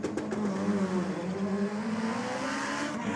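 A drag race car sits full-staged at the start line on its 2-step launch limiter, a loud, steady, crackling engine drone holding near and constant with a slight rising pitch, no voices.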